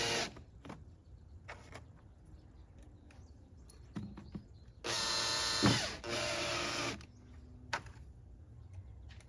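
A power drill with its clutch set low whirs in short bursts while fitting a flat-six intake on a Porsche Macan S, with one longer, louder run in the middle and scattered clicks and taps between the bursts.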